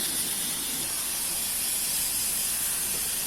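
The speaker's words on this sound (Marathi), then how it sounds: "पुन्हा दुसरे मोदक तळून घेऊया" Wheat flour modaks with jaggery and coconut deep frying in oil, a dense, steady hissing sizzle that holds evenly throughout, close and fairly loud, with no talking.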